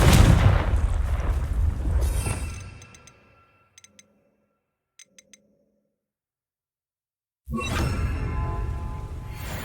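Bombarda and Confringo spell blasts in the video game Hogwarts Legacy: two seconds of loud, dense booming rumble trail off into near silence with a few faint ticks, then another heavy burst of blast noise erupts near the end.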